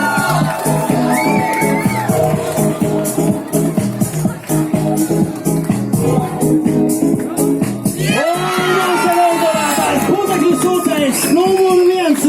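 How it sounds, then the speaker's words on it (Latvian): Loud crowd cheering, whooping and clapping at a burger eating contest during a Riga burger festival, with shouts rising in bursts and an announcer's voice heard over the noise. "Aiziet, atbalstam, aplausi!"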